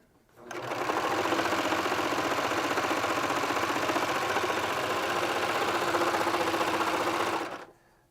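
A Babylock Victory serger stitches through sweatshirt knit, starting up sharply, running at a steady fast whirring hum for about seven seconds, then stopping abruptly, heard close and alone.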